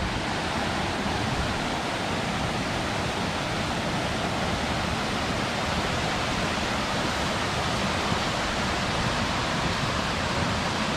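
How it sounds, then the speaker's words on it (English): Mouse Creek Falls in the Great Smoky Mountains pours with a steady, dense roar of rushing water, unbroken and even in level throughout, heard from a short distance with no voices. "Mouse Creek Fall."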